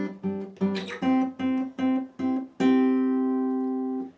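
Acoustic guitar strums out the opening two chords of a progression at full tempo, a series of crisp rhythmic strums ending on one held chord that rings out and slowly fades, close and clear with no voices.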